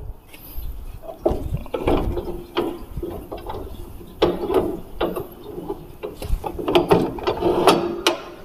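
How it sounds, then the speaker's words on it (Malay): Bench vise clamp on a band saw being loosened, giving irregular metallic ratcheting, grinding and knocking mechanism sounds at close range, with brief rubbing noises between them. "Seterusnya longgarkan pengikat ragum."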